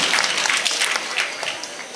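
Applause for the shot put prize winners at a village festival sports event: a crowd claps steadily and fairly softly for about two seconds, with light voices mixed in.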